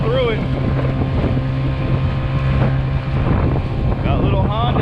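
A Honda 50cc outboard on a custom KB mount pushes a Crescent K-Craft SUP boat through rough seas. The engine drones steadily and close throughout, with wind buffeting the microphone and water splashing against the hull.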